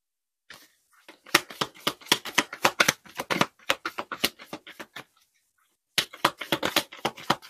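Cards are shuffled and drawn for a card reading: rapid crisp snapping and flicking clicks in two close bursts separated by a short silent gap, with no talking.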